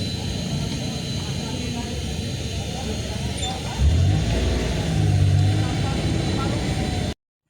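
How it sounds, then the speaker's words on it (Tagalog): A jeepney engine in the Philippines, rumbling at idle before revving up midway as the vehicle pulls off, heard loud from inside the cabin, with a voice speaking over it. "Nasa jeep na ako guys at hihintayin na natin si manong driver na mag-drive."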